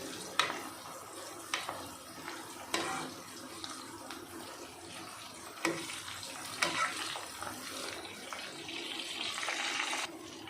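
Jackfruit peel chips fry in hot oil in a second batch, a steady bubbling sizzle broken by occasional clinks and stirring scrapes, close and moderately loud, with no talk.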